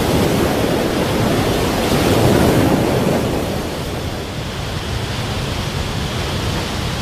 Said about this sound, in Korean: 9m 아래로 떨어지는 물줄기는 주변의 모든 소리를 삼켜버릴 정도로 대장관을